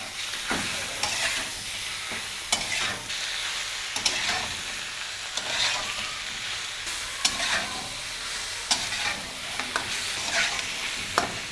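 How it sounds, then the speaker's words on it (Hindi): Mutton pieces frying in oil for karahi, a steady loud sizzle with recurring scraping stirs at a regular pace, no voices. "गोश्त को हमने इतना फ्राई करना है कि इसका कलर चेंज हो जाए।"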